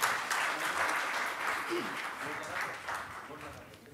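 Audience applause at a Hindi literary seminar and song event, a soft continuous patter of clapping that gradually fades toward the end, heard fairly distant.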